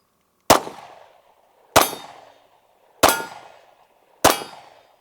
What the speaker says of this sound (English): You're just gonna rip that trigger until it's empty.